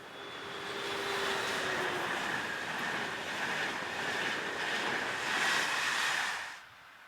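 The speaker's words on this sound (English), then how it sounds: "is seen heading north with an intercity express bound for Milano" An intercity express train heading north toward Milano roars past in a steady broad rush that holds for several seconds, with a faint high whine, then drops away abruptly at the end.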